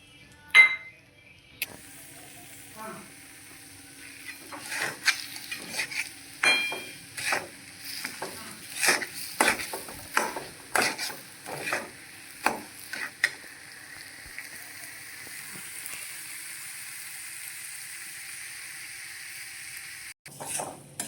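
Semolina (rava) being stirred and roasted in hot ghee for rava shiro, a sweet: a soft steady sizzle under repeated scraping strokes of a spoon in the pan, close and fairly quiet, with a few clinks.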